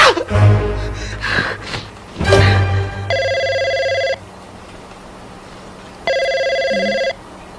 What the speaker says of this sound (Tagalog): Telepono. Telepono.